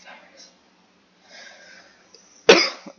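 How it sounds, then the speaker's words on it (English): A single sharp, close cough bursts out after a stretch of faint background noise and soft breathing, heard during online gameplay of a firefighter roleplay game. "Cough."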